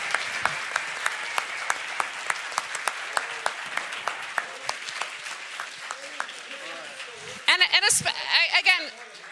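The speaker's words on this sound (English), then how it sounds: "A round of applause for our team." An audience applauds at a live Bitcoin-versus-gold debate, steady clapping with sharp individual claps throughout, followed near the end by a brief burst of louder, excited crowd noise.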